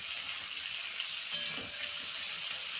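Tomatoes go into a pan of potatoes and greens stems frying in oil, giving a steady, close hiss of sizzling with a faint stirring scrape partway through and no talking.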